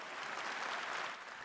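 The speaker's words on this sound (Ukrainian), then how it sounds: "Під нестримні овації з'їзд партії «Єдина Росія» у чергово висунув Володимира Путіна кандидатом у керманичі країни уже на п'ятий термін." Sustained ovation from delegates at a United Russia party congress, dense even clapping filling the hall at a steady level before easing slightly at the end.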